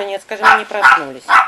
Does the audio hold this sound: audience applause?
no